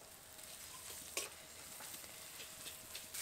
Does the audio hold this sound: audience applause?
no